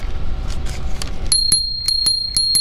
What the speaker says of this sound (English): So that's my bell.